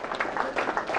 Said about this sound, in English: Give Sam a big applause.